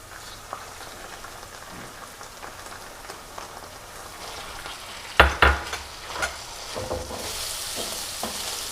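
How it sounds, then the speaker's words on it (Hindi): Chicken mince frying with garlic and onion in a pan: steady close sizzling and crackle throughout, with a few clattering stirring knocks partway through and the sizzle swelling brighter toward the end. "लहसुन और प्याज के साथ कीमे को 2 से 3 मिनट के लिए मैं फ्राई करूँगी।"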